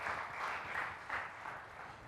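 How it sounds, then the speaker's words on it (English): A conference audience applauds steadily, a dense wash of many hands clapping at moderate loudness with no pauses. "Please, another round of applause"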